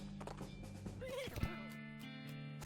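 A horse in the video game West of Loathing lets out a clear, rising and falling whinny over a low game backdrop, with a voice faintly present.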